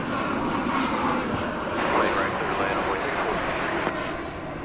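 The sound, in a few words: American Airlines airplane arriving at DFW Airport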